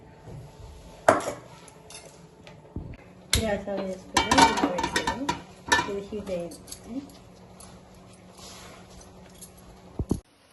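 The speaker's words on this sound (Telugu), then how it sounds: "గిన్నె పెట్టుకున్నాము నెయ్యి పోసుకున్నాము" A pot set down on a stove, then ghee poured in for coconut rice, heard as sharp metallic clanks and clinks in bursts, with a brief spoken word in between.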